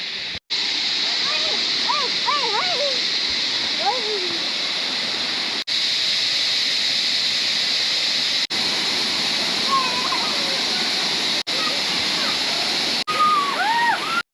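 Loud, steady roar of a waterfall fills the whole scene, constant and close, with faint bird-like chirps and voices barely audible underneath.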